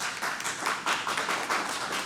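A small audience claps at a St. Cloud city council meeting, producing a short burst of moderately loud, uneven hand claps in the room with no one talking.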